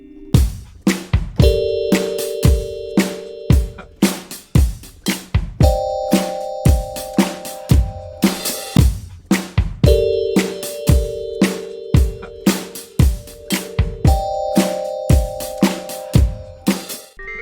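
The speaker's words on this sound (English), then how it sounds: "It's a really nice bell sound, again in Analog Lab" Synthesized bell tones from Analog Lab play sustained chords over a steady programmed West Coast funk beat, repeating a short progression loudly with no voices.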